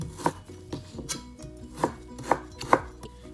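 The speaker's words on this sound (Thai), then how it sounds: "หั่นง่ายแบบนี้ก็จะเป็นลูกเต๋าเลย" A knife dices chilled pork into small cubes on a cutting board, giving a series of sharp, close chops in an uneven rhythm, about six distinct strikes, with no talking.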